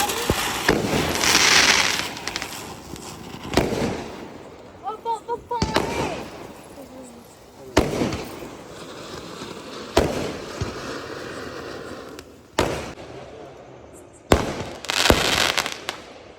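Firecrackers and fireworks go off at a village Diwali, with a series of sharp, loud bangs and crackling bursts spaced a few seconds apart and people talking between them.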